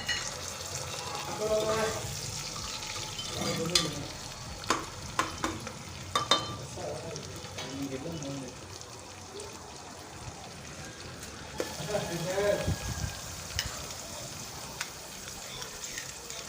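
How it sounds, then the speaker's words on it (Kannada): Green peas frying and being stirred in a pan for a tomato bath recipe: a steady close sizzle runs throughout, broken by repeated scraping stirs and light clinks, with no talk. "ಫ್ರೈ ಮಾಡೋಣ ಸ್ವಲ್ಪ ಚೆನ್ನಾಗಿ ಹಸಿ ಬಟಾಣಿ ಹಾಕ್ತಾಯಿದ್ದೀನಿ"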